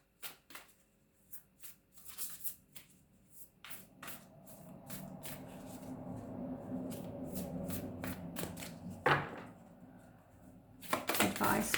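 Moonology oracle cards are shuffled by hand in a close, soft series of riffling flutters and taps, quick bursts separated by pauses, with a busier stretch of rustling in the middle.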